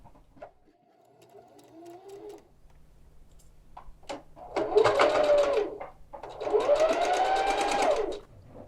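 A sewing machine stitches along the folded edge of a jacket cuff in two loud, sustained runs, with a short softer whir before them and quiet pauses between.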